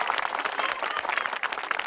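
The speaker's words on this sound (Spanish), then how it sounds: "¡Un aplauso para ella!" Audience applause at a Spanish television show, a short dense burst of clapping from many hands at steady loudness, with no voices over it.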